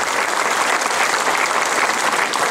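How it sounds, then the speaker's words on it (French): Sustained audience applause fills an evening political speech event in Saint-Etienne, dense steady clapping throughout with no voice over it. "j'en profite d'ailleurs pour saluer et pour applaudir mon ami Jean-Louis Pichon"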